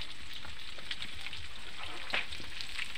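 Garlic frying in melted butter in a pan, a steady close hiss of sizzling with small crackles and pops throughout.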